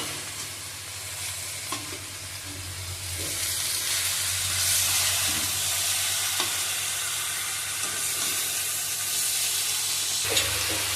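Green chillies frying in oil in a village kitchen, a steady, fairly soft sizzle with hiss and occasional stirring scrapes lasting throughout, with no voices.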